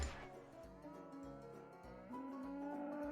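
Cows low repeatedly in a video game, a series of deep, close moos following one another with slight pitch shifts and no talking.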